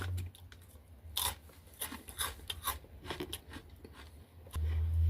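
Takis Blue Heat spicy chips crunch and get chewed up close, several sharp bites followed by irregular wet chewing, with a low hum starting near the end.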